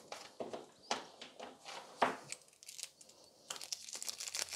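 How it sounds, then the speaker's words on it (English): Scissors cutting a small piece of gold nail-art transfer foil, a quiet close-up series of crinkling snips and rustles in short bursts. "We can cut a small piece of the transfer foil."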